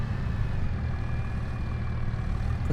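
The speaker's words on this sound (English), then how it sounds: "I'm gonna get this tractor up and out of the way." A tractor engine idles in Farming Simulator 25, a steady low rumble that holds at an even level throughout without revving.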